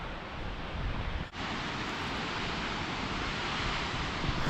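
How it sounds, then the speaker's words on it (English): Steady, broadband roar of a waterfall in Mae Hong Son, Thailand, continuous and loud, with no voices over it. "Beautiful waterfall."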